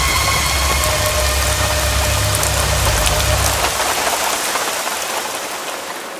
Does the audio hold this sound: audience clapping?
no